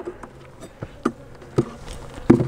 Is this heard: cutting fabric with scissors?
no